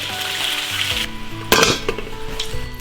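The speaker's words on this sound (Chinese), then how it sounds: "炸到定型就可以了，捞出来烧。" Fist-sized beef meatballs deep fry in hot oil with a steady sizzle, broken by a sharp clatter of a utensil against the pot and a burst of louder bubbling.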